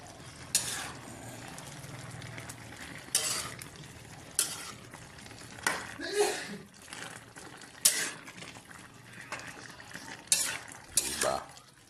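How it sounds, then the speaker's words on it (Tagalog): A spoon stirs Filipino laing, taro leaves simmering in coconut milk in a pot, with repeated sharp scrapes and clinks against the pot at irregular intervals over a low bubbling background. "Kailangan natin haluin para po mailalim itong nasa ibabaw."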